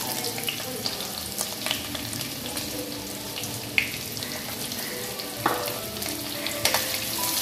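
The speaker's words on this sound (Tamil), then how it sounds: "அடுத்து நம்ம ஆனியன் ஆட் பண்ணிக்கலாம்" Sliced onions frying in hot oil in a pan for vegetable biryani, a quiet continuous sizzle with occasional light clinks and stirring scrapes.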